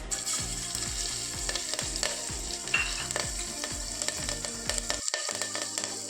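Oil sizzles and fries in a pan while chopped green chilli is added for a stuffed brinjal curry, with a steady rhythm of spoon strokes scraping and stirring close by.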